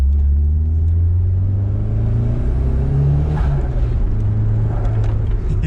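A Nissan 180SX engine with an S15 T28 turbo at about 7 psi drones steadily at close range, then climbs in pitch as it revs out, a deep rumble filling the cabin with no talking.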